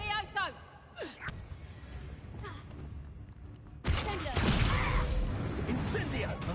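A Levioso spell goes off in the Hogwarts Legacy video game: a loud magical whoosh and burst swell suddenly partway through, over earlier game effects and a voice calling out.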